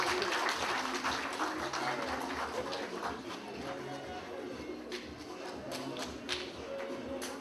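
Audience applause at an Asante Kotoko 2017 gathering, a steady wash of clapping from a crowd that continues throughout, moderately loud and slowly tapering, with faint voices underneath.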